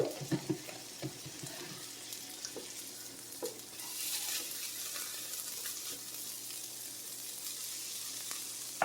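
Garlic sizzling in a frying pan while being stirred, a quiet steady crackle with a few soft utensil scrapes early on and no talking.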